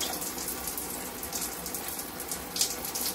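Tap water flushing through the nozzle of a plastic lotion pump to clear dried lotion, a steady close hiss of running water with a small splash near the end.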